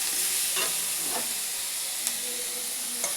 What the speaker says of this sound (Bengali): পেঁয়াজ, টমেটো এগুলো ভেজে দেব।